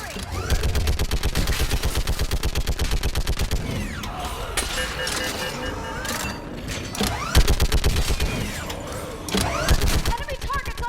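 Rapid bursts of automatic gunfire in the Mass Effect video game, loud and close, long rattling volleys broken by short pauses, mixed with game sound effects and voices calling out.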